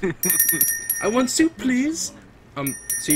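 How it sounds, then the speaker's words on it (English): A dinner bell in a Minecraft Lucky Block PvP match being hit repeatedly, ringing as bright metallic dings mixed in and out of ongoing excited talk from several players. "It's the sound of everybody hitting the bell right now."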